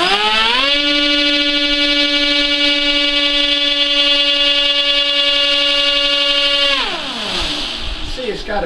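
Twin Himax CR3516 electric motors on a heavy test stand spin up to a steady, loud harmonic whine, hold it for several seconds, then wind down in a falling pitch sweep.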